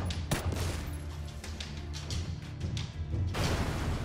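Automatic M416 rifle fire in PUBG, aimed at the front of a sports car, crackles as a dense, steady run of rapid shots with a few heavier thumps, loud and sustained throughout.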